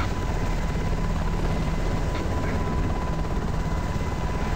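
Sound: VTOL aircraft engine climbing in the video game ArmA 2

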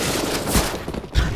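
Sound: gunfire from a video game

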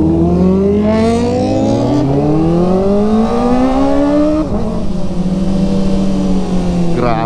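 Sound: Kawasaki ZX4RR motorcycle exhaust with slip-on muffler

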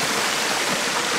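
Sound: waterfall from a mountain spring in Bolivia

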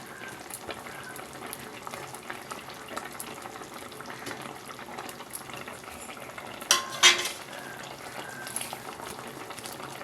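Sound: fish pieces and mango simmering in tamarind broth

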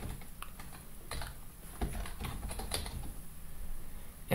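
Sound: typing on a computer keyboard in a text editor

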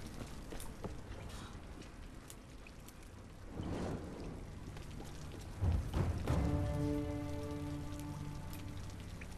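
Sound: water dripping from the roof in Tomb Raider video game

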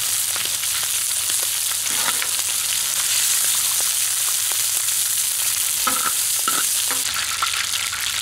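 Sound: lamb offal frying and stirred in a pan

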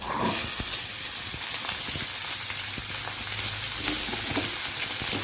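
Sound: peas, carrot and potato frying in oil

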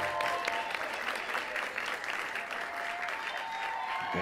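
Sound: crowd cheering in the video game Mars Horizon

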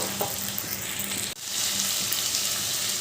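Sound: water from rinsed spice bowl added to frying pan, sizzling

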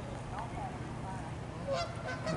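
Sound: ducks calling at a park pond

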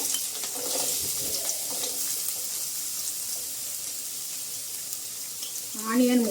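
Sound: mustard seeds and carrot pieces frying in oil

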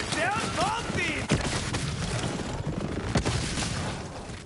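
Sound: shotgun fire in Borderlands 3 video game

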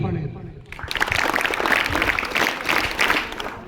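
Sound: audience applause

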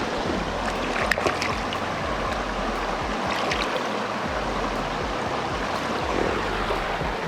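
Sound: waterfall at Hasanboğuldu pond, Kaz Mountains

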